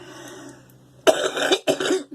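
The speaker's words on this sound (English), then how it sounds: "I had a sneeze and a cough coming." Two harsh coughs close up, one right after the other, following a brief quiet wheezy breath.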